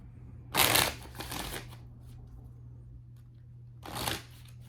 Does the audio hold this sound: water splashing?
no